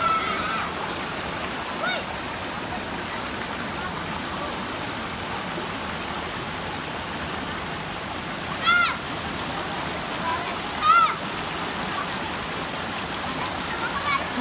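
Flowing stream water at the Binuntoan swimming spot in Biliran, a steady broadband rush throughout, with a couple of brief splashes and people talking nearby.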